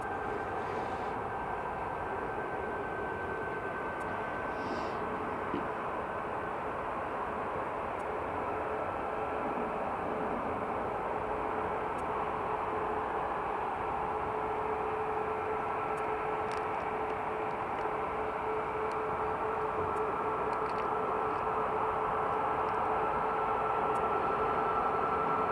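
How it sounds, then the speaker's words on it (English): A Ryanair airliner taxies at Edinburgh Airport with a broad, continuous jet engine roar and a steady whine, holding an even level for the whole stretch with no talk. "We've also got a Ryanair just taxiing out."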